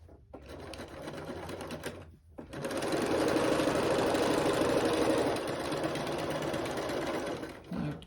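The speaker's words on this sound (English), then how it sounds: "You're going to sew that seam." A sewing machine stitches a fabric seam, starting in short bursts, pausing briefly, then running in a steady, close mechanical whir for several seconds before slowing and stopping.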